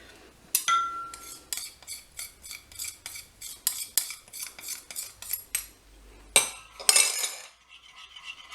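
Repeated clinks and scrapes of a utensil against a bowl as a chocolate mixture sweetened with maple syrup is stirred, a steady run of close, light taps with a few louder knocks near the end.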